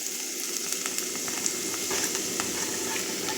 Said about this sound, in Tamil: இப்போ வெங்காயம் ஒரு 3 வெங்காயம் கட் பண்ணி போட்டிருக்கேங்க.